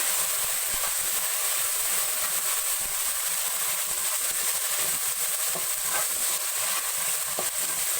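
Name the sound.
tomatoes frying with garlic in a pan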